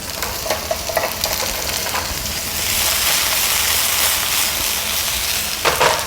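Potato and zucchini fry in a pan at medium-high heat, producing a loud, continuous close sizzle with occasional crackles and scraping, swelling into a stronger hiss partway through, with no talking.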